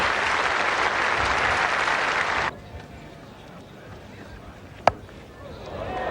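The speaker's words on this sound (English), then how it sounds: "the crowd applauding a tidy 50" A cricket Test crowd, India versus Australia, applauds loudly and steadily from a distance for a couple of seconds, then it cuts to a quieter ground with one sharp knock.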